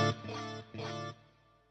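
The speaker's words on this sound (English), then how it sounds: "I have a 1/4 note delay in the left channel and a 1/2 note delay in the right channel" Electric guitar through a stereo delay with a quarter-note repeat on the left and a half-note repeat on the right, sustained chords swelling twice and trailing off into fading echoes.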